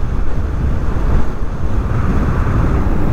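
Strong wind buffets the microphone in a dense, constant low roar while riding a Dualtron Victor Luxury electric scooter on a motorway at about 80 km/h, continuous with no talk.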